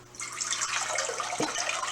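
Water runs steadily from an RO filter tap in a home kitchen, a short continuous stream that begins abruptly and keeps pouring for under two seconds.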